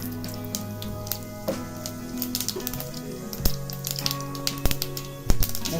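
Mustard seeds crackling in hot oil for tempering a drumstick-leaf bhaji, with dense spattering pops over a steady sizzle, growing louder and sharper toward the end, alongside a sustained background hum.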